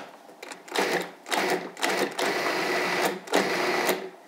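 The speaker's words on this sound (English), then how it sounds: "in a food processor, you take just the strawberries, put those in there, and we're going to give them just a little ride." Strawberries are pulsed in a food processor in a series of short, fairly quiet whirring bursts with brief pauses between them, and no one speaks.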